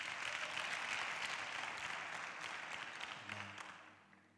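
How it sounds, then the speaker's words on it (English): A church congregation applauds as a man returns to his seat after being honored, a dense wash of steady clapping that fades slowly toward the end, with a faint low hum entering near the close. "Let's clap for our dad as he sits down"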